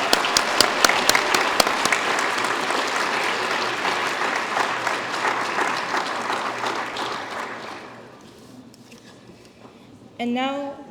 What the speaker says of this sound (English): Let's have another round of applause for our newly inducted members.